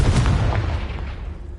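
The Confringo blasting spell in Hogwarts Legacy lands as a single heavy boom that rumbles and slowly fades.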